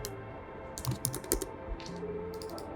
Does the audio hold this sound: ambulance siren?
no